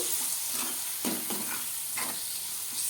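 Tomato pieces fry in a pan with a constant close sizzle. A few scraping stirs break through it, and nobody speaks.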